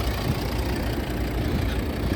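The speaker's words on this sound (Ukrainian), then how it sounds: "Так, працює двигун." Volvo V60 D5 five-cylinder diesel engine with automatic gearbox and all-wheel drive idling, a steady low rumble with slight knocking texture, close and even throughout.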